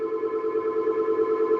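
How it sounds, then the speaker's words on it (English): A telephone rings with a steady electronic tone that pulses evenly, fairly faint, and no one speaks over it. "Hold on. Phone's ringing."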